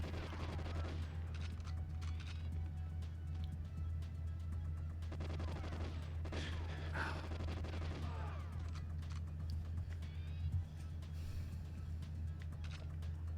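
Enemy gunfire in the Xbox Live Arcade GoldenEye 007 shooter, played on a Steam Deck: bursts of shots crackle over a steady low game hum, with denser volleys around the middle and a sharp hit near the end.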